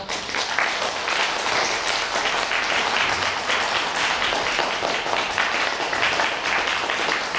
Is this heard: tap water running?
no